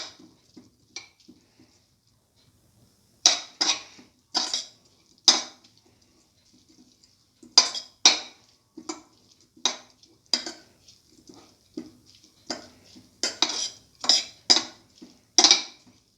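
Watermelon milk vermicelli being mixed in a bowl, heard as a run of close, bright clinks and taps of a spoon against the bowl, coming in irregular bursts with quiet gaps between.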